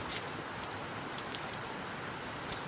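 Heavy rain pours at night with a dense, steady hiss and scattered sharper drop impacts. No voices are heard.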